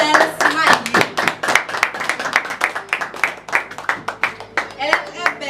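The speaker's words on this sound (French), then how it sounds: "Je vous demande de se lever, d'applaudir chaudement la mariée qui va faire son apparition, Mademoiselle Smayou." Wedding guests clapping rhythmically as the bride makes her entrance, sharp close handclaps in a steady beat with scattered voices and cheers mixed in.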